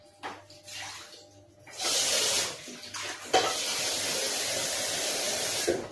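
Tap water running into a container for squash or pumpkin fritter batter, a close hissing gush that starts after a few soft kitchen clicks and flows steadily to the end with a brief interruption.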